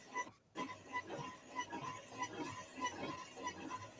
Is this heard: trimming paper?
no